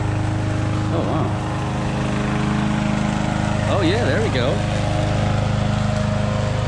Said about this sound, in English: There's a guy mowing his yard over there